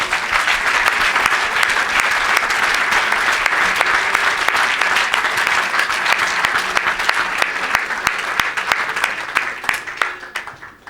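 A church congregation applauds steadily and loudly throughout, a dense continuous clapping that acclaims the Lord during a French-language evangelical service, fading slightly at the end.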